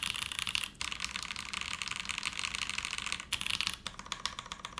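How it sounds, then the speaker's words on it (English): Rapid, steady keystrokes on a Bauer Lite mechanical keyboard fitted with vintage Cherry switches, a close, crisp clatter of many keys in quick succession with a few brief pauses. "The alphas are sounding really good."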